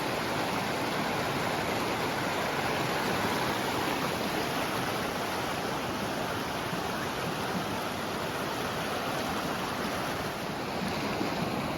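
Steady, broadband rush of flowing water in the lower Santa Ana River in the San Bernardino Mountains, continuous and even, moderately faint, with no voices.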